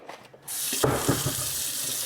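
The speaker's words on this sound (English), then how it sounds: "Turn on hot water and run the disposal to make sure it's all cleared out." Hot water gushes from a kitchen tap into a sink with a garbage disposal, a sudden steady rush of splashing flow starting after a moment of quiet and continuing close by without speech.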